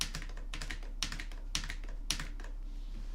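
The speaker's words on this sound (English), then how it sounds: "I can manually do that with the keyboard by going Command O, down space, Command O," Computer keyboard keys tapped in a steady run of clicks, a handful of sharper presses standing out at a regular spacing, close and clear over a faint steady hum, with no talking.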